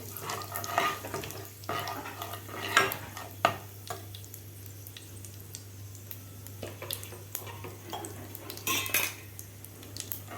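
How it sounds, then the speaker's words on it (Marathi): A spoon scrapes and clinks against a cooking pot as asafoetida is stirred into a Konkani raw mango kadhi, with a soft sizzle underneath and several close, sharp metal knocks at irregular intervals. "पाव चमचा हिंग घालायचं आहे आपल्याला आपल्याला व्यवस्थित हलवून घ्यायचं आहे"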